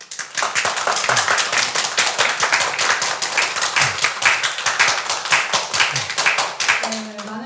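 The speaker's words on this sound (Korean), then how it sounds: "많은 분들이 이렇게 박수를 쳐주셨는데" Audience applause at a Seoul mayoral candidate interview event, dense continuous hand clapping from many people, close and steady throughout, fading briefly at the end.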